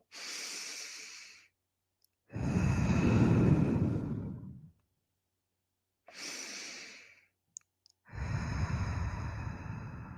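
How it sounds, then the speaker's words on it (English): Deep, slow breaths during a guided breathing exercise: long breathy inhales and exhales trade off in a steady pattern, two full cycles heard up close with no talking. "now we're going to breathe."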